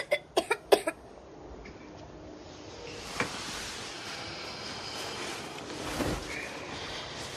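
A child coughs for a doctor, a quick burst of four or five sharp, close coughs at the start, followed by quiet hiss and faint background noise.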